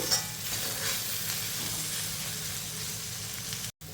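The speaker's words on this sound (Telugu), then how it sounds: "ఇప్పుడు ఈ వెల్లుల్లి వేసిన తర్వాత ఇంకొక నిమిషం ఫ్రై చేసుకోవాలి." Garlic and okra pieces frying in a pan, a continuous close hiss of sizzling oil with faint stirring, steady throughout and briefly cutting out near the end, with no talking.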